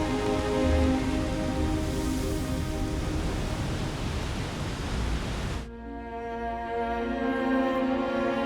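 Steady, loud rain pours down over a Scottish Highland river in spring, a dense continuous hiss of drops on water that cuts abruptly to a thinner, softer patter partway through.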